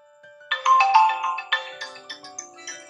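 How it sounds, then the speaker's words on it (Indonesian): A phone ringtone plays a bright, repeating electronic melody in a quiet room, loud and close, its notes pulsing steadily with no talking. "Ada telepon nih,"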